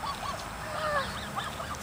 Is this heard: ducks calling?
yes